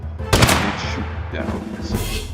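Gunfire in the battle game TABS: rapid, loud volleys of shots in quick succession, close and dense, with a strong burst near the start and more firing later.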